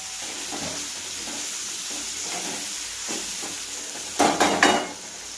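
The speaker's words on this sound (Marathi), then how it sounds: "आता आपण याच्यामध्ये चिरून घेतलेली वांगे आहेत ती फ्राय करणार आहोत" Chopped brinjal frying in a pan gives a soft, steady hiss with faint stirring scrapes, and near the end comes a short louder burst of crackling sizzle.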